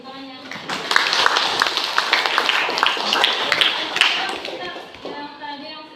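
A school class claps hands together, a dense burst of applause swelling after the first second and fading near the end, heard close in a classroom.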